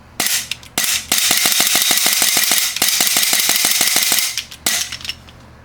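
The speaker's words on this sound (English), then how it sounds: "this feels like the strongest airsoft pistol ever that I've ever shot" A GHK Gen 3 Glock airsoft pistol firing rapid strings of sharp, loud cracks with the gas blowback clatter, several quick bursts close by with brief gaps between them.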